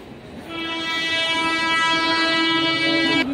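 A train at a railway station sounds a long, loud, sustained horn blast that holds steady for nearly three seconds over a low background rumble, then cuts off abruptly.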